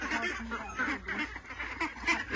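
Domestic ducks on a small home duck farm quack close by, a busy overlapping chorus of nasal calls that keeps going without pause.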